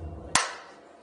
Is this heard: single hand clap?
yes